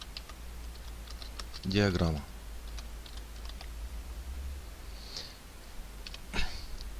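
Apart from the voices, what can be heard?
typing text on a computer keyboard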